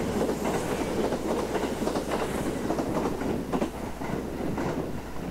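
A Noto Kagaribi 8 limited express train rumbles past close by in sleet, with steady clickety-clack of wheels over rail joints throughout, loud and continuous with no voices.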